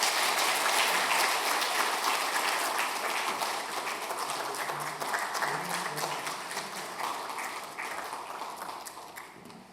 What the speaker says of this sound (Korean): 우리 사랑하는 아들 건강하게 돌아올 수 있도록 우리 박수로 격려해 주시기 바랍니다.